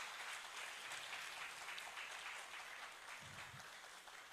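Audience applause at a Ghanaian government launch event, a steady, diffuse crowd clapping heard faintly and from a distance, sustained throughout with a brief low murmur near the end.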